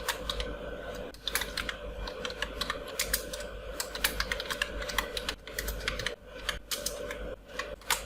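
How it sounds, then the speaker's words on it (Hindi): Rapid clicking of computer keyboard keys including the Tab key, as a Bio Data table is built in MS Word, a steady irregular run of close, crisp taps with no talk. "सिर्फ अपने कीबोर्ड पर टैब की प्रेस करनी है"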